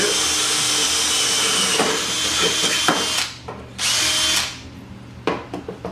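A power drill whines steadily at close range, pausing briefly twice and ending in a few short bursts of the motor.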